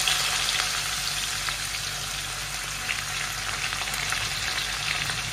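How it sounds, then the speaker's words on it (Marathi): Finely chopped onion sizzles steadily in hot oil with asafoetida, two bay leaves and a dried red chili, cooking for spicy Kolhapuri misal; a constant close frying hiss with no talk. "जो बारीक आपण चिरून जो कांदा घेतलाय ना तो आता कांदा आपण याच्यात घालूया"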